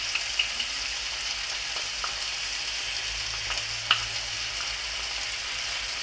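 Beef mince filling with Worcester sauce, chutney, mustard and pepper cooks down in a pan, giving a steady low sizzle with a few faint scraping stirs and light clicks throughout.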